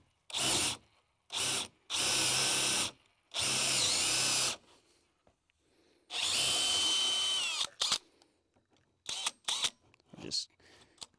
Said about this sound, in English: I'll grab my drill and a battery and we'll just start drilling through.